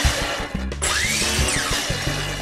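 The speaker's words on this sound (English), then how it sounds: "Now I can bring it back to 90 degrees, line it up, and clamp it down again to cut the dowels." A power saw on a woodworking jig cuts through wooden dowels in one loud, short burst. The blade pitch swoops up and down as it bites into the wood, over a steady, close motor whine.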